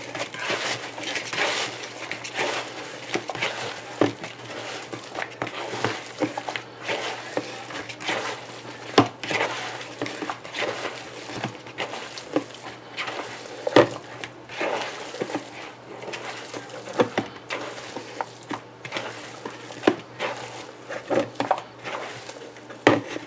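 Beef meatball mixture being worked in a bowl, irregular soft squishy and tapping sounds with occasional sharper knocks of hand or utensil against the bowl, close and without talk.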